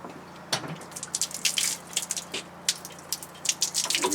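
Water splashes and drips in irregular bursts while a bash plate for a Triumph is rinsed off, close and fairly quiet over a low steady hum.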